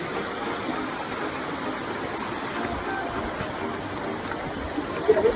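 Steady rushing of river water in Iceland, a broad continuous flow near and fairly loud, with a brief bump of handling noise at the very end and no voices.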